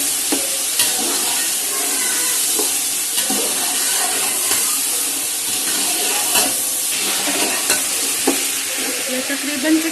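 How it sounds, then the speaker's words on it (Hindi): Chicken roasting in hot oil in a pot for pulao, with a loud, steady sizzle and hiss throughout, plus occasional scrapes and clinks of stirring close by. "थोड़ी देर उसको रोस्ट करेंगे इसके ऊपर ऑयल में"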